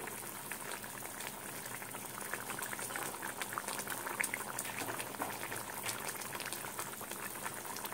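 Broccoli and potato curry bubbling steadily in a pan, a continuous close, even boil with no talk over it.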